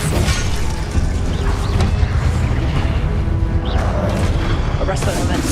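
The Depulso spell cast in Hogwarts Legacy lands as a dense, rumbling burst of magical force with booming, crashing impacts, loud and continuous over layered game effects and music.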